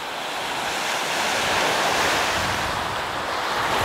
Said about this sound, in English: This is Lake Erie in October in 2011, and the water is totally green with algae.